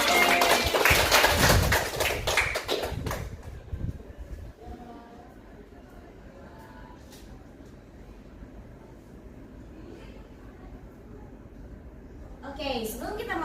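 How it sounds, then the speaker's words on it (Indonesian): Students in a classroom break into loud group applause for about three seconds, the dense clapping then cutting off and giving way to quiet room noise, with a brief burst of voices at the end. "Tepuk tangan buat kita semua."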